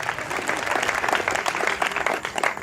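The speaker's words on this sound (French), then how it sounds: "On peut acclamer Jésus pour lui." A church congregation at a prophetic gathering in Abidjan applauds steadily and loudly throughout, a dense wash of clapping with crowd murmur and a few voices mixed in.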